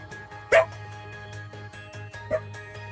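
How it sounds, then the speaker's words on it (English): Small dog barking indoors near a chewed toy, two sharp yaps spaced about two seconds apart over a low steady hum. "this small dog that is barking"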